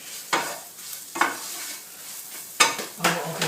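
Curry base with coriander cooking in a pan, with stirring scrapes and clatter in a few separate bursts over a steady low sizzle, no voices.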